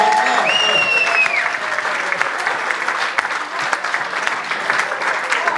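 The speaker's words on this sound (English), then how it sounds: "Give them a round of applause." An audience at a football club event claps and applauds steadily throughout, a dense continuous roar of hands with a brief whistle near the start.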